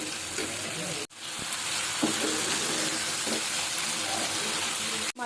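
Spices being sautéed with peas in a pan for a katla fish curry made without onion or garlic: a constant, fairly loud sizzle with occasional stirring scrapes and two brief dropouts, no voices.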